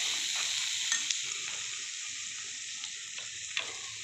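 Vegetables fry in a pan, with a steady close sizzle and a few faint stirring knocks throughout.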